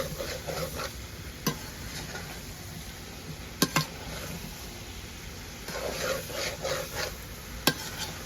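Green jackfruit curry with shrimp is stirred in a pan, with a soft steady sizzle, gentle scraping strokes and a few sharp clicks of the utensil against the metal.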